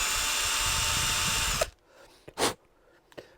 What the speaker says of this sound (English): another tool which works well are these conical chamfering tools, and this one fits in perfectly